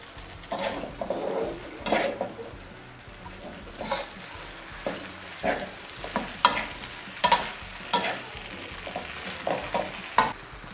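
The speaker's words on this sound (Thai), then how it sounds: "ตามด้วยกระหล่ำปี เห็ดหูหนู แล้วก็ เล่งไฟเลยค่ะ" Glass noodles stir-fried over high heat with tomato, cabbage and wood ear mushrooms, giving a steady close sizzle broken by repeated scraping strokes of a spatula against the pan.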